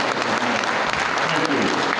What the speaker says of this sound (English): How about a big round of applause for all the people that put this thing together?